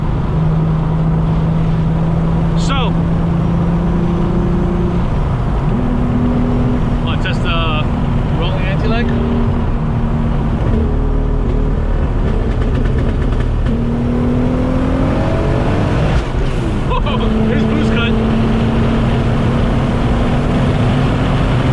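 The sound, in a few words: widebody Audi S4 big turbo VR6 engine launching with anti-lag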